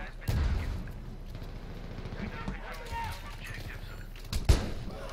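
Gunfire from the Battlefield 3 video game with bolt-action rifles: a loud shot near the start and another sharp blast near the end, with scattered smaller reports and game noise between them.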